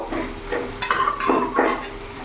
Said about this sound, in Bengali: এবার সেদ্ধ করা কাবলি ছোলাগুলো আমি পুরোটা দিয়ে দেবো